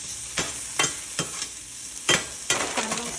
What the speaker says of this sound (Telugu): ఆనియన్స్ వేసుకోండి. లైట్గా ఫ్రై చేస్తే సరిపోతుంది.